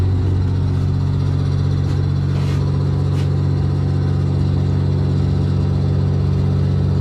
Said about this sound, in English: turn the engines on